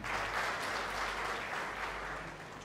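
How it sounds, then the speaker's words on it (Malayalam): A church youth retreat audience claps to welcome a speaker, a dense, steady wash of applause that holds strong and eases slightly toward the end. "ഒന്നും കൂടെ നമുക്ക് കൈയടിച്ച് ബ്രദറിനെ ഒന്നുകൂടെ സ്വാഗതം ചെയ്യാം"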